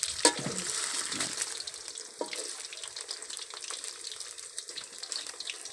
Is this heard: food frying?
yes